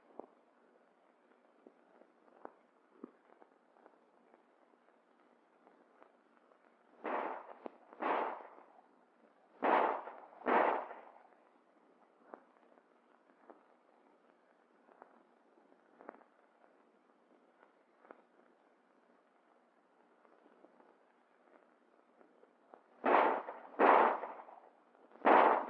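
Handgun shots ring out at targets during US Army combat firing practice, sharp cracks in quick pairs and triples separated by long pauses, thin and somewhat muffled, with faint clicks between volleys.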